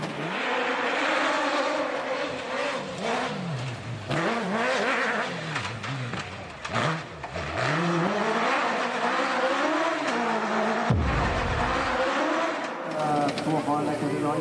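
A rally car engine races and revs at a hill-climb rally, with sweeping pitch rises and falls heard up close and loud throughout, under a commentator's continuous voice.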